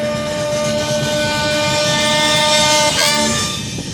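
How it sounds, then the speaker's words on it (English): A train horn blows long and loud nearby, a steady sustained chord holding for several seconds before easing off slightly at the end, with rail rumble underneath. "Appreciate the train horn, thank you."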